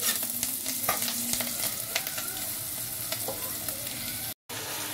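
Aloo dum cooks in a pan with onion, ginger, garlic, tomato, chilli, whole cumin and garam masala, giving a continuous close sizzle with stirring scrapes and a momentary dropout near the end.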